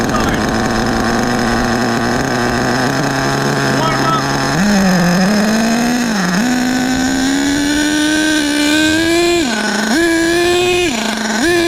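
HPI Savage XL K5.9 RC car with its nitro engine on a top-speed run, a loud, close, high-pitched buzzing whine that holds steady, then rises in pitch with several brief dips as the throttle is eased and reapplied.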